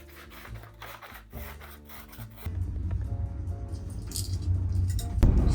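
Scissors cut through printed paper documents at a table indoors, with steady rubbing and snipping sounds that grow denser and louder partway through, ending in a brief sharper clunk.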